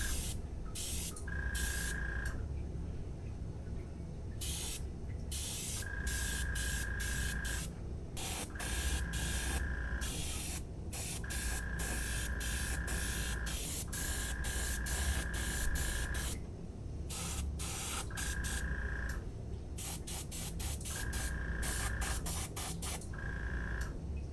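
Repeated bursts of an airbrush or spray gun hissing paint onto a carved wooden bluegill fish, each lasting a second or two with short pauses between, close and fairly quiet.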